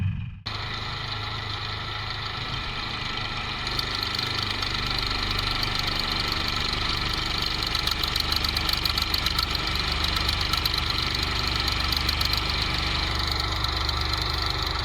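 A pressure washer drives a pipe-cleaning nozzle with small bores on a long hose, giving a loud, steady mechanical drone with a rough rattling texture that carries on unbroken throughout, and no one talks.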